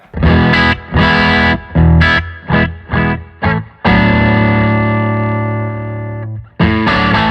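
A loud distorted electric guitar through a 50-watt Blackstar St James amplifier plays chopped chords, then one long sustained chord rings out and fades before another hit.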